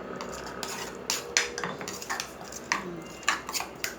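A spoon stirs a mushroom and mackerel mixture in a bowl, with repeated bright clinks and scrapes against the dish in an irregular rhythm, close and clear with no talking.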